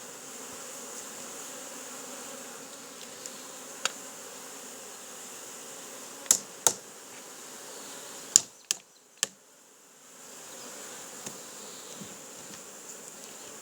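Honey bees gathered in boxes for stocking nucleus colonies hum in a steady, moderate drone, punctuated by a few sharp knocks and clicks near the middle, with no talking.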